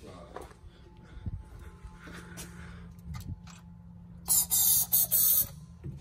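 Several short bursts of aerosol spray into the engine of a 1968 Impala convertible, loud hissing spritzes in a quick cluster after a stretch of quieter background with some talk.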